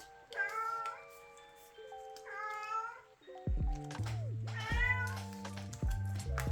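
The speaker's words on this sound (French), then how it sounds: "Toujours mon chat." A domestic cat meows indoors in three distinct, drawn-out calls spaced across the stretch, close and clear, with low steady tones entering partway through.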